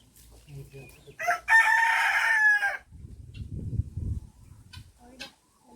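A rooster gives one loud, near crow among chickens in a home garden, followed by low clucking and scattered bird calls, with brief quiet voices around it.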